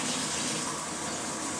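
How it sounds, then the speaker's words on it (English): Warm tap water gushes steadily over a reptile cage carpet being rinsed, a close, continuous broadband splash with no talk. "We'll rinse it out with warm water, but not hot water"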